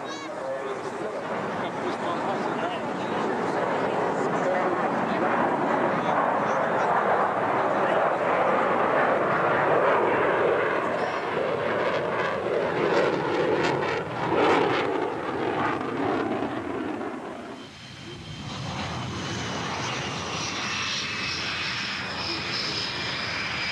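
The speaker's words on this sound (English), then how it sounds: "This is ex-MiG pilot Anatoly Kvochur, now flying Su-27s, making a low-speed pass at a very high angle of attack." An Su-27 jet fighter flies a low-speed pass at a very high angle of attack, a loud, roaring engine rumble that swells and holds for about seventeen seconds, then drops away to a thinner whine.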